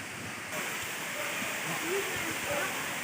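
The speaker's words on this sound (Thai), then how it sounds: "ได้ยินแต่เสียงน้ำตก" A steady, broad rush of a tiered waterfall in a forest in Kanchanaburi, Thailand fills the background, continuous and moderately loud, with faint voices murmuring underneath.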